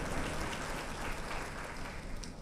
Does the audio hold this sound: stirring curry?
no